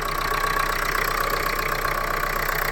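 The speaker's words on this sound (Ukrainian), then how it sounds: "Тільки його завів, мотор холодний" A cold 2015 Renault Megane 1.5 K9K diesel idles just after starting, a steady close clatter with an even rhythmic knock and a constant high whine, with no voices.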